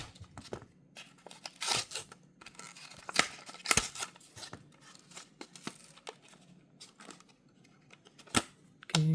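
Unboxing a Majorette toy car package, with scattered close crinkles, tears and snips of card and plastic, quiet apart from a few sharper bursts.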